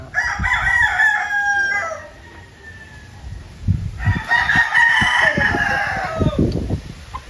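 A rooster crows loudly nearby, then crows again after a short pause, with chickens clucking and scratching in the background on a farm in Laramaya.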